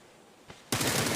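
Gunfire in a battle royale shooter game, including an SKS rifle: a single faint shot, then a sudden loud burst of rapid, dense firing that continues to the end.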